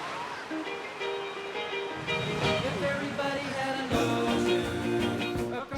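Ocean surf at a Korean beach on a surfing day, with steady broadband wash of waves rolling and breaking, swelling louder midway and again near the end, as board testing and surfing go on close by.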